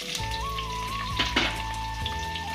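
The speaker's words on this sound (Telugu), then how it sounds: "ఇప్పుడు కొద్దిగా జీలకర్ర వేసుకున్నాము. ఇట్లా తిప్పుదాము. అలాగే ఉల్లిపాయలు కూడా వేసుకున్నాం." Cumin seeds and onions sizzling in hot oil as they are stirred, a close steady crackle with a few louder bursts and no talking.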